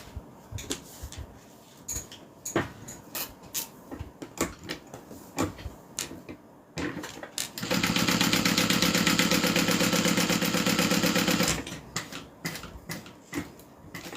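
A sewing machine stitches around a zipper overlay in a steady, loud buzzing run of about four seconds, with slower rhythmic clicking hand-cranked stitches before and after, close by with no talk.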